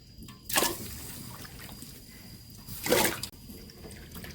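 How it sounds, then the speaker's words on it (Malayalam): Cassava pieces dropped into hot water in a cooking pot for kappa biriyani, two distinct splashes spaced a few seconds apart over quiet background, close and moderately loud. "ഇനി നമുക്ക് വെള്ളം ചൂടായിട്ടുണ്ട്, നമുക്ക് ഇതിലേക്ക് പൂള ഇട്ട് കൊടുക്കാം."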